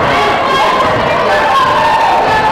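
A large crowd cheers at a girls' high school basketball game after a basket, a loud sustained roar of many voices with shouting and chatter throughout.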